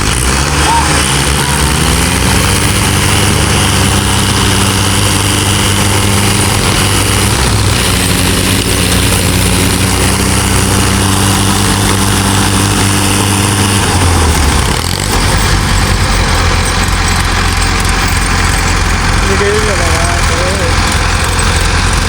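Three tractors and a JCB rumble loudly and continuously while trying to pull a sugarcane-laden tractor stuck in a field, a heavy low idling drone that lasts throughout with little change.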